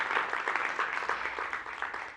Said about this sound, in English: So a big round of applause for all of you to be in this room right now.